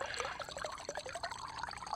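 A water filler in the Stationeers video game fills with water, giving a faint, steady pouring and trickling wash with no pauses.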